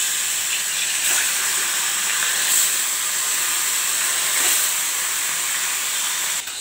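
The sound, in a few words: bhola fish sizzling as it goes into hot oil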